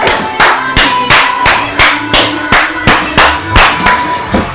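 Hands clap in a steady, even rhythm, about two claps per second, sharp and close, over background music.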